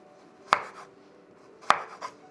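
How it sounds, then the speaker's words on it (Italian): Knife cutting peeled potatoes into wedges on a cutting board, two sharp, close chops about a second apart, each with a short rustle after it, in an otherwise quiet room. "Io adesso taglio le patate tipo un po' a spicchi, non troppo ovviamente spessi."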